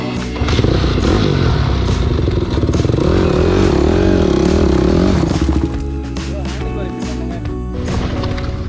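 A dirt bike roaring loudly along a bumpy off-road trail, engine droning and revving close by with thumps and clatter from the rough ground; a voice talks over it.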